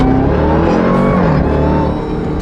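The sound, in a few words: twin turbo Lamborghini accelerating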